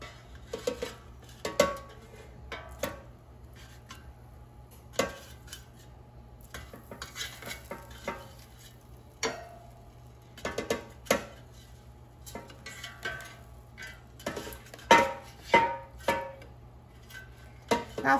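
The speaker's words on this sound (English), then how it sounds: "let's take out the air fryer basket, and I'll flip them over so they cook evenly." Air fryer basket pulled out and thin chicken breast slices flipped with metal tongs, giving a run of scattered clinks, taps and scrapes against the basket over a steady low appliance hum, close and moderately loud with no talking.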